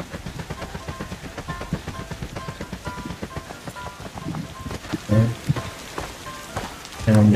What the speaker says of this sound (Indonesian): Ini hujan sih.